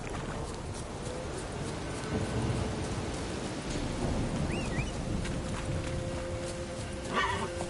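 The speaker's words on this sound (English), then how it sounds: "Lightning strike." Steady rain and rumbling thunder fill a storm scene in The Witcher 3 video game, a low continuous wash with faint distant clatter and a brief sharp sound near the end.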